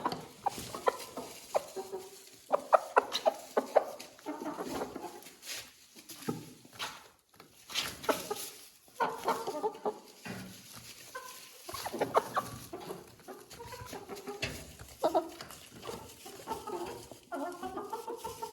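Hens in a coop cluck and murmur in overlapping calls while pecking at newly set-out feed, with soft tapping and scratching on fresh bedding, close by and moderately loud throughout.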